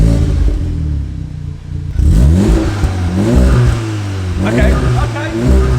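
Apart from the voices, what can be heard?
VW Golf R exhaust revving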